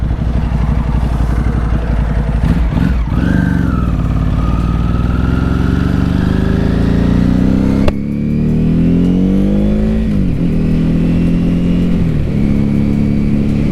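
A 2006 Ducati 749 BIP motorcycle engine pulls away and rides off, loud and close, its revs climbing and dropping through smooth gear changes with steady engine rumble throughout.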